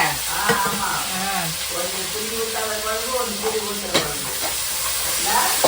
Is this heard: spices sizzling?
yes